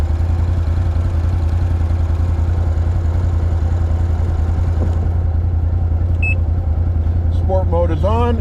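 A 2022 Can-Am Outlander 850 Max XT ATV runs in two-wheel drive sport mode with a steady loud engine drone and faint clatter, and a voice speaks briefly near the end.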